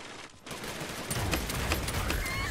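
Rapid assault rifle fire in the battle royale game Realm Royale, a dense burst of shots starting after a brief lull and continuing loud and close to the end.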